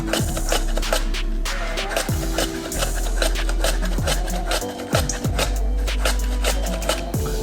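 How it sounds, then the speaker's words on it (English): A whole jalapeno is sliced thin on a mandolin in a kitchen, a steady run of close, rhythmic scraping strokes over a loud background hum, with no speech. "You can slice it thin with a knife, or you can use a mandolin. And I'm just gonna slice this whole bad boy into there."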